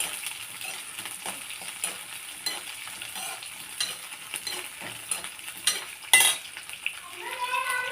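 Garlic fries gently over a low flame for a date and lemon pickle, giving a soft, continuous sizzle with occasional clinks of a utensil stirring in the pan.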